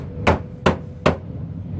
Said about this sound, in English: You really like to have jack stands underneath the vehicle when you're striking it with a sledgehammer.